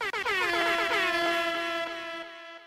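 An air horn sound effect blares as one long, loud, steady blast of about two and a half seconds after a brief stutter at the start, heard alone with no talking.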